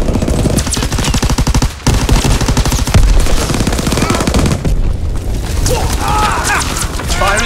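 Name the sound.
gunfire and explosions from the video game Call of Duty WWII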